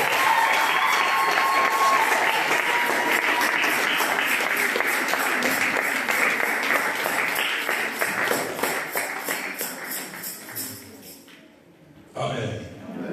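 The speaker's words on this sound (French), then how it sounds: "Est-ce qu'on peut acclamer encore une fois?" Church congregation applauding and cheering during a French-language worship service, sustained dense clapping and voices that gradually thin out and fade, with a brief louder burst near the end.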